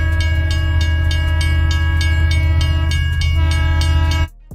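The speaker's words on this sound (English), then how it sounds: "That's a train sound." A loud train horn blares steadily for about four seconds over rumbling rail noise and rhythmic clacking, then cuts off abruptly.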